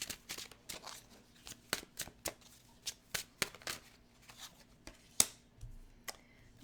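Tarot cards are shuffled and drawn by hand, producing a series of crisp, close snapping and riffling flicks at an uneven rhythm with quiet pauses between them.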